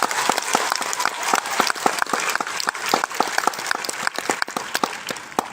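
A single person claps in a quick, fairly regular rhythm of sharp, loud, close slaps, continuing alone without speech.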